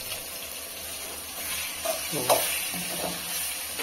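Soft sizzling and bubbling of a blended onion mixture simmering in a pan for tamarind chutney, with faint stirring scrapes and low background noise.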